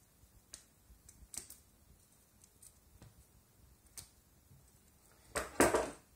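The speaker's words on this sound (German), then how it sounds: "dann nehmen wir uns eine Schere und schneiden die gefächerten Ecken hier, dort wo das nicht zusammen ist, rund ab" Scissors snip rounded corners off fanned, folded origami paper for a butterfly, giving sparse dry clicks and cuts at irregular intervals, ending in a louder burst of snipping near the close.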